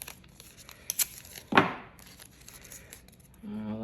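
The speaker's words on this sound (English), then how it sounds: "I'm going to tape this down here" A strip of tape is pulled and torn off close up to fix paper down, one sharp ripping burst among small handling rustles and crinkles, with a voice starting at the end.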